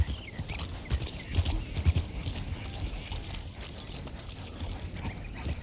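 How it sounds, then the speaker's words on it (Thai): Horse hooves clip-clop in Red Dead Redemption 2 as a horse is ridden up to a hitching spot, a steady rhythmic trot of moderate loudness with light thuds, no talking over it. "หาที่ผูกม้าก่อน"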